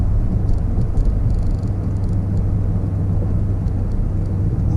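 Porsche Panamera Turbo S engine before a Racechip GTS Black install, a loud steady low rumble from inside the car under acceleration, with faint higher ticks above, no talk.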